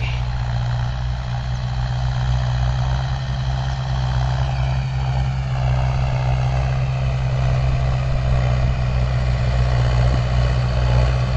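Mahindra Yuvo 575 4WD tractor ploughing a field: a steady, loud engine drone with a deep, constant hum, close and unbroken throughout, without any talking.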